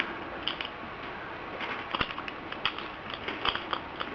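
Small screws being driven into an Xbox 360 controller make faint, scattered clicks and scraping ticks, irregular and close, with quiet handling noise between them.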